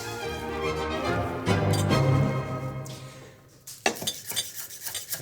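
Pasta with spicy sausage and ricotta is tossed in a metal pan, giving a few scraping, clinking stirs and a soft sizzle, close and clear, with short sharp knocks near the end.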